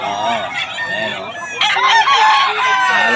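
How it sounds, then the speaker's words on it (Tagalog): A crowd of roosters crows over and over among many clucking chickens at Bukawi, the overlapping calls loud and close, with someone talking now and then in the background. "Napakarami na naman manok dito sa Bukawi"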